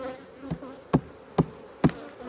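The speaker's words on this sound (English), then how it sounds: "These bees are falling off the back of the hive." Honey bees buzzing at a hive while it is opened and tended, with faint buzzing under several sharp taps that recur about every half second, close and fairly quiet.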